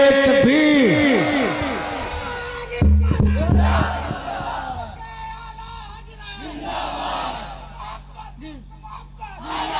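A large crowd at a religious gathering on the Prophet's birth celebration roars back a chanted Takbeer response, loud and massed voices with shouted overlapping cries, a brief deep honking blare near the start, then a sustained crowd roar.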